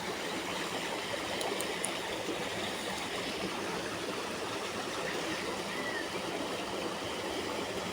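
Water flowing through an irrigation canal running high and murky, a steady, even rushing wash at close range with no pauses or voices.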